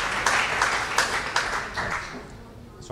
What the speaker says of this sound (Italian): Sono applausi condivisi, però, insomma.